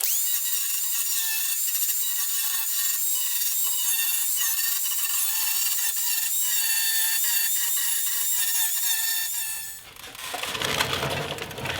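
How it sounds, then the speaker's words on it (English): An angle grinder cuts and grinds parts off the body of an International Scout II, a steady high-pitched whine for about ten seconds that ends in a brief rough burst of contact noise. The grinding is loud and close, with no talk. "Now let's get a grinder and take those off there."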